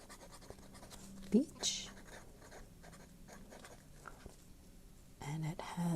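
A BENU Euphoria fountain pen in the Golden Beach finish scratches softly across paper, the nib giving faint rasping strokes while a person speaks over it.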